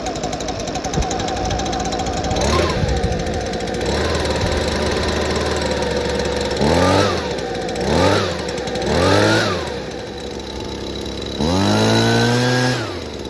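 Husqvarna leaf blower two-stroke engine running loud and close, idling with several sharp throttle blips that rise and fall in pitch, ending in a longer rev.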